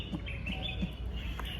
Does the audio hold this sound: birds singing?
yes